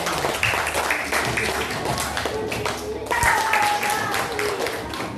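Students in a classroom clap together, a brisk burst of scattered hand claps with voices chattering over and around it, strongest near the start and again after a brief dip.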